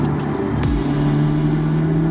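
Audi S3 engine accelerating in dynamic mode on a B-road, heard from inside the car; a steady, loud droning engine note that drops in pitch early, then holds a strong, even hum.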